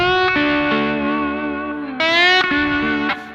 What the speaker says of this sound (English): sound settings is a little bit distorted guitar, very important